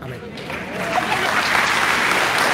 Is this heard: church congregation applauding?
yes